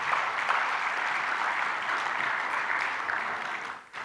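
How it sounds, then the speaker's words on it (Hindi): Steady, dense applause from a large audience at a keynote address at the SGEF 2023 event, loud and continuous for about four seconds before tapering briefly at the end. "ये तालियां कमजोर थीं, पर मैं कहूंगा नहीं आप लोगों को बजाने के लिए"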